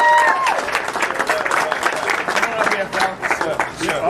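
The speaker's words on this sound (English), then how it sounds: "Y'all give Eugene Lockhart a big round of applause." A crowd claps and applauds steadily, with scattered voices mixed into the dense clapping.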